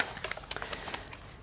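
An oracle card deck is shuffled up close, giving quick papery riffles and soft slapping flicks that fade toward the end, with no talk.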